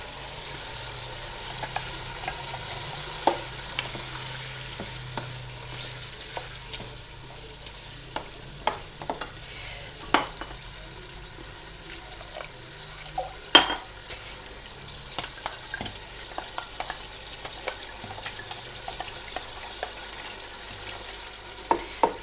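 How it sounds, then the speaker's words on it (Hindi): Chicken and onion masala fries in a pot with a low continuous sizzle, punctuated by scattered scraping and clanks of a spoon stirring. "ताकि ये थोड़ा गोश्त और भुन जाए और ये प्याज भी साथ इसके अच्छी तरह भुन जाएगी"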